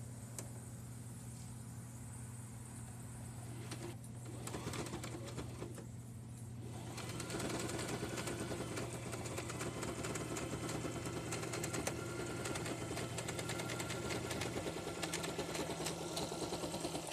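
Sewing machine stitching a Halloween oven towel, a steady rapid mechanical whir with a low motor hum that runs continuously and grows a little louder partway through, with no talking.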